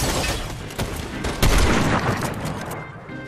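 Rapid gunfire in an online video game shooter, a dense volley of close, sharp shots with one heavier blast in the middle, tapering off near the end.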